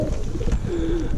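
Yeysk double-crested pigeons coo in a soft, low, rolling call that swells and fades across about a second, close by amid faint background noise.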